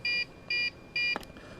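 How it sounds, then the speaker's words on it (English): A Heli-Max 1Si quadcopter transmitter gives three short, bright electronic beeps in an even rhythm, each about a quarter second long, followed by a soft click and quiet hiss. "press and hold in, and it's going to start beeping"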